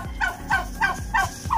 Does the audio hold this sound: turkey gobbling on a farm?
yes